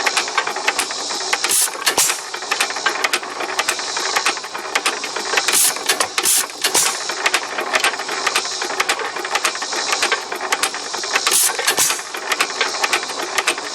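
A hit-and-miss engine running on its original EK ignition chugs in an uneven rhythm, with sharp irregular firing bangs and mechanical rattling over a steady clattering run, close and fairly loud.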